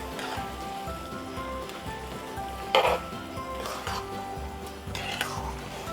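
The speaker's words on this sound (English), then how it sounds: "the next thing I'm going to do is to add my pasta. I want to mix that in thoroughly." Pasta being stirred into jambalaya in a pot makes a soft simmering sizzle. Scraping and clinking of a utensil against the pot break in at intervals, with a few sharper knocks near the middle.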